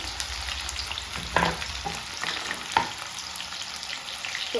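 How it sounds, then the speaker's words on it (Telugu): Onions and green chillies frying in hot oil, a constant close crackling sizzle broken by a few louder scrapes and clinks of a stirring spoon against the pan. "నూనె వేడైంది, అందులో ఉల్లిగడ్డలు వేస్తున్నా, పచ్చిమిర్చి వేస్తున్నానండి"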